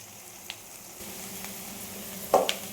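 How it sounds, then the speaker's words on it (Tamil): Onions frying golden in a pan for a seer fish curry, a quiet steady sizzle with a few light stirring taps and a louder clatter near the end. "வெங்காயம் நல்லா வந்து பொன்னிறமாக வதங்கிட்டு"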